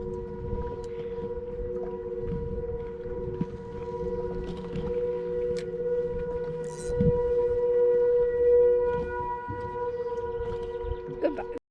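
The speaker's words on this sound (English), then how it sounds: "The siren stopped and we got fishy." A tornado warning siren wails steadily from a distance across a lake, a sustained droning tone that holds for the whole stretch while people talk nearby and occasional knocks and splashes sound close by.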